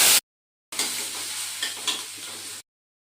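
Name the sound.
frying onion, ginger, chili and nigella seeds in hot oil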